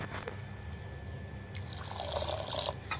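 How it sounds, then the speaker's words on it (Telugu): Milk poured into a sweet semolina laddu mixture, a soft trickling liquid pour that builds toward the end, with faint background hum and no speech. "ఇదిగోండి ఇట్లా పాలు పోసుకొని, కొంచెమే పడతాయండి, పాలు ఎక్కువే పట్టవు"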